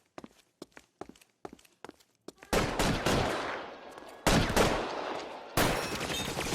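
Gunfire in an L.A. Noire shootout, starting with a string of separate sharp shots and then breaking into three loud, roaring bursts of sustained fire with long ringing tails.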